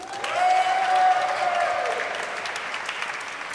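Audience at a live cabaret show in a museum hall in Saint-Denis breaks into loud applause and cheering for the technician, a dense burst of clapping that swells early and stays steady without fading.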